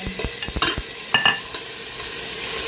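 Chopped tomato tumbling into a pan of sautéing cabbage, Baguio beans and carrot, with a steady sizzle under a few sharp scraping stirs near the start, then a continuous frying hiss.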